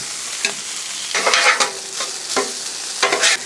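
Pork fried rice tossed and mixed with a spatula on a Blackstone griddle, giving a steady sizzle broken by several scraping bursts of stirring, close and fairly loud, with no talking.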